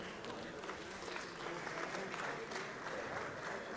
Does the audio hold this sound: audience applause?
yes